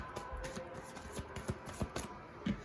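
Tarot cards being shuffled by hand, soft quiet riffling with a few sharper taps and flicks in an uneven rhythm, close but faint.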